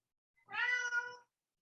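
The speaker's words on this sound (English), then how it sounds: "I think I heard a cat." A single cat meows once, a clear, drawn-out cry lasting under a second against silence.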